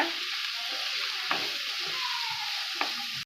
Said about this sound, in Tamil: இது எல்லாத்தையும் நல்லா வதக்கிடலாம்